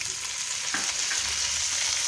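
Browned onions and tomatoes frying in a pan for a restaurant-style veg poori curry, giving a constant close sizzle with soft stirring scrapes and no talk.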